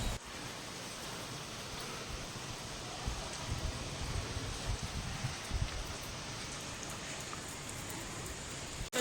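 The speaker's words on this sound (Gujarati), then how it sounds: "આટલી બધી ગરમી પછી આજે વરસાદ આવી જ ગયો" Steady rain falls after a spell of heat, a broad, even hiss of drops on surfaces continuing without pause, with no voices over it.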